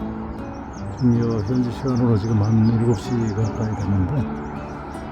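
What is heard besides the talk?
birds chirping at sunrise in Malaga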